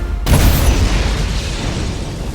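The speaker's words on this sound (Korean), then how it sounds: "아도르가 괴로운 비명을 지르며 폭발한 것은 거의 동시였다" A fantasy explosion effect: a sudden loud boom bursts out after a brief silence and leaves a long, rumbling roar that fades slowly, with no voices.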